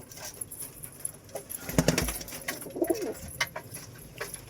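Soft pigeon coos close by as the birds feed, amid faint scuffling and pecking noises, with a brief clatter in the middle.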